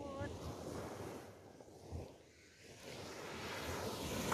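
Sea waves wash onto a beach, a steady surf roar mixed with wind buffeting the microphone, swelling and easing over a few seconds with no voices.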